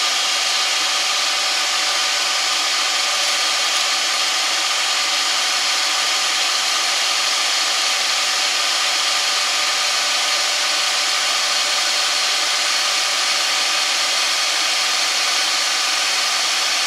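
A machine holding molten aluminum spins at high speed, producing a constant loud whirring roar that stays even and unbroken throughout.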